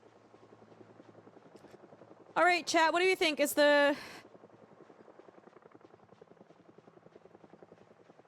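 A helicopter in the video game Project Zomboid drones steadily at a distance throughout, a low, even rumble that continues while someone talks over it in the middle.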